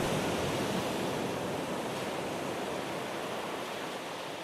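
Sea waves wash against the shore on the Maryport seafront, a constant broad hiss of surf that stays fairly soft and steady, fading slightly toward the end.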